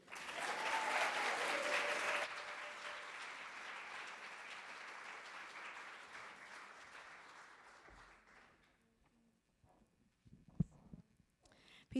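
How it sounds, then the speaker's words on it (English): Conference audience applause that swells at first, then thins and fades away over about eight seconds, followed by near silence with a few faint stray sounds. "please give a round of applause to this powerful Black woman, Binta, and her guitarist, Danny."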